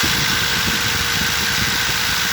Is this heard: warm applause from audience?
no